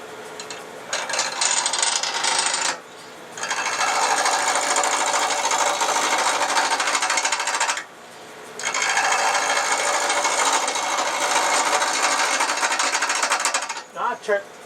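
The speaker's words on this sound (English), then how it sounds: "I'm going to true up the end a little bit where it fits onto the cord" Wood is turned on a lathe while a roughing gouge trues up the end of a piece, making a loud, continuous rough cutting roar in three long passes with brief gaps between them.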